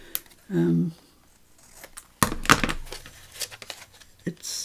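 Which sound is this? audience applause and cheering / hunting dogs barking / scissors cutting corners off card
scissors cutting corners off card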